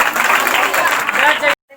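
A congregation claps for God at a live prayer meeting. Dense, steady clapping comes with voices mixed in, then cuts off abruptly near the end.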